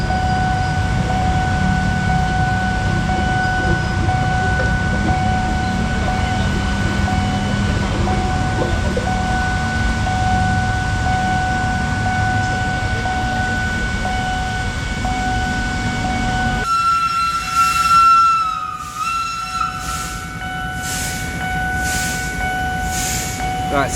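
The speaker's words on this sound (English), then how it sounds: "That sound, modern day Bangkok." Modern-day Bangkok rumbles on in a steady roar of trains and traffic with a constant electrical whine, then the scene shifts partway through to a thinner hum and a few sharp bursts.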